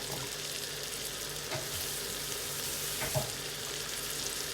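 Chopped garlic and onion frying in butter in a pan, a steady close sizzle with occasional scrapes and knocks of a spoon as it is stirred, no talking.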